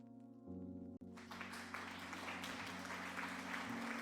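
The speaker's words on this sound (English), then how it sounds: "the applause comes through OBS." Applause sound effect in Cult of the Lamb swells up after a brief low tonal hum, a dense, sustained patter of clapping that holds steady to the end.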